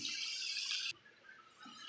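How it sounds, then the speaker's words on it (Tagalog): Water rushes and splashes into a pan for about a second, then stops abruptly, leaving a quiet sizzle. "Lagyan ko na yung tubig na pinapainit ko lang yung tubig."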